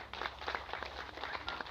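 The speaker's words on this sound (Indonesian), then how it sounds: "Tepuk tangan dong Bapak Ibu ya." An audience at the grand opening of an umrah office claps with scattered, uneven hand claps that run in a light patter for under two seconds, fairly faint and with no voices over them.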